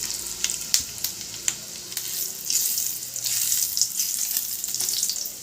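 Panch phoron and broken dried red chilies sizzle and crackle steadily in hot oil, with a few sharp pops and light stirring, close and alone.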